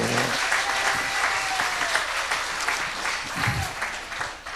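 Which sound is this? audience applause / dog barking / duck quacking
audience applause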